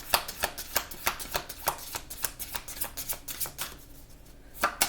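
A deck of oracle cards being shuffled by hand, a quick rhythmic run of crisp riffling flutters, close and steady, with a brief pause before a final flick.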